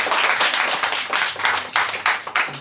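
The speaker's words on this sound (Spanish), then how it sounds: "Denle ese aplauso fuerte al Rey porque se lo merece." A church congregation claps loudly together in praise, producing dense, sustained applause with bursts of sharp hand claps close by, running throughout with no talk.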